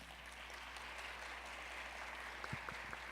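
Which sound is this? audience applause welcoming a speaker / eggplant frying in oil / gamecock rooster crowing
audience applause welcoming a speaker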